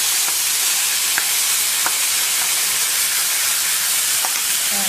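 Mawa roasting in a hot pan, a steady soft sizzle with occasional faint scrapes of stirring, close and continuous with no talking.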